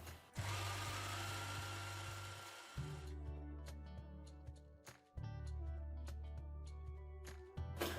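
A sewing machine stitches a 3D fabric face mask in quick runs of steady mechanical whirring, stopping and restarting close by with small clicks between passes.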